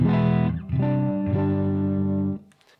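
A distorted electric guitar, freshly retuned after stretching its strings, strums three chords in succession, each ringing out loudly, the last one sustaining before stopping abruptly.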